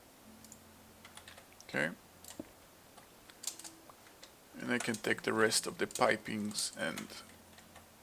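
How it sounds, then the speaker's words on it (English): Computer keyboard and mouse clicks while shift right-clicking in a game: scattered quick taps and a short rapid burst of clicks, mixed with someone talking. "Shift right clicking."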